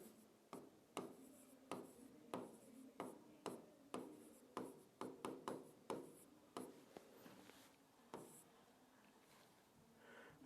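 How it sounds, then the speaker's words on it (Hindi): A teacher writes on a board during a Class 9 science lesson, producing a steady run of sharp strokes and taps, some closely spaced, others spread out, with no talking. "तो स्टूडेंट्स हम लोग यहां पर लिख रहे हैं"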